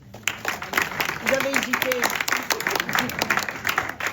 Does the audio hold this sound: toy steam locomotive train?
no